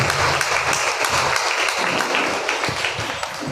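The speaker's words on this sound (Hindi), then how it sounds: "हम एक बार ताली बजाकर ईश्वर का धन्यवाद करें और प्रार्थना का आह्वान करें।" A church congregation at a Yeshu Kripa satsang claps together in thanks to God, a dense, even wash of many hands applauding without pause, fairly loud and close.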